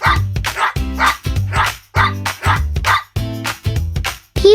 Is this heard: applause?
no